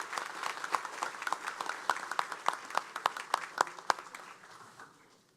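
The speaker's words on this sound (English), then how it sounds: "Give them a round of applause." Graduates' audience at a police academy graduation breaking into a round of applause, individual sharp claps standing out within the crowd before the clapping thins and fades away at the end.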